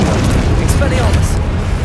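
Spell blasts in Hogwarts Legacy, with booming bursts and crackling magical impacts over a dense, loud combat mix, voices speaking throughout.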